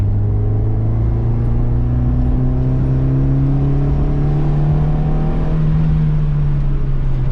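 A Honda Civic ED/EF with a swapped D16Y8 EFI engine pulls hard in third gear, its loud in-car drone rising steadily in pitch as it accelerates, with no one talking.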